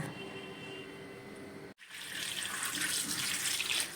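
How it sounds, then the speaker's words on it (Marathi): Water runs steadily from a tap, splashing as carrots are rinsed beneath it; the flow briefly cuts out, then returns louder and fuller. "ताजी फ्रेश गाजरं आणलेली आहेत आपण ती आता धुवून"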